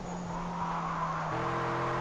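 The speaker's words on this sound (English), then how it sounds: "Good kind of tyre noise, I suppose." Steady car engine drone with a tonal whine and a faint tire hiss from the racing game Project Cars 2, shifting pitch partway through, continuous and close.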